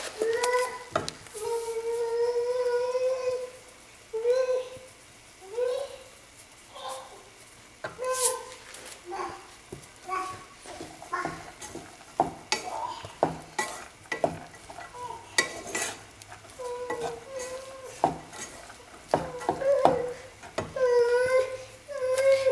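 A young son fusses and cries in the background of a home kitchen, his whiny wails rising and falling again and again at mid-distance over the clatter of a spoon stirring a pan.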